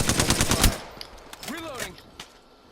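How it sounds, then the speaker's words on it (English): Automatic weapon fire in the battle royale game Apex Legends, a rapid burst of loud shots followed by softer sporadic pops and game effects, with no talk. "Shot fired, and they're hitting me"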